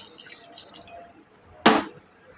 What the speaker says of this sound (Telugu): కొద్దిగా వాటర్ పోసుకొని